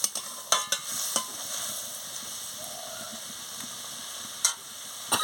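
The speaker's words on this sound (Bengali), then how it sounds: "জল দিয়ে ভালো করে নাড়িয়ে নিচ্ছি" A spoon stirs chickni shaak chochchori after water is added to the pan, with sharp scraping clicks against the metal over a soft, steady simmering sizzle.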